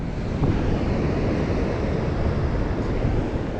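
Strong storm wind blows across a beach, a loud, steady low roar buffeting the microphone with surf rumbling underneath, no talking.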